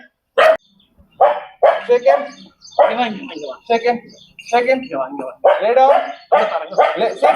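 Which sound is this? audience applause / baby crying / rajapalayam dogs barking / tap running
rajapalayam dogs barking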